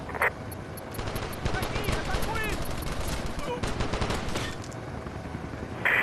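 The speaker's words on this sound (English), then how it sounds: "Enemy spotted. Take the shot." Gunfire from the 2013 video game Call of Duty: Strike Team: sharp game-weapon shots crack over a busy, dense battle soundscape, with a loud burst at the start and again at the end, and voice chatter mixed in.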